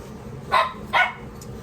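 A puppy shut in her pen gives two short, sharp yips about half a second apart, close and fairly loud, over quiet kitchen background.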